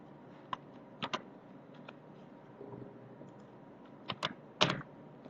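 Fingers tap a computer keyboard while IDs are entered into a software form: scattered clicks in small clusters, a few isolated keystrokes then quick bursts, close and fairly quiet in a calm room.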